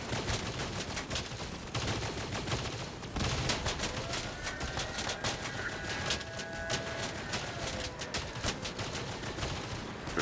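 Video game gunfire in rapid bursts, dense crackling volleys of shots repeating throughout with brief gaps, loud and close.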